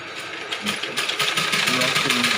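A sewing machine stitches piping onto an Assamese sador in a fast, steady mechanical whir that builds slightly in intensity, with a faint voice underneath.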